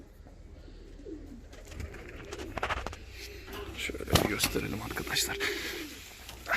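Ornamental and costume pigeons, including English breeds, coo softly nearby in a bird sale setting, their low calls running under a man's speech with some rustling and handling noises.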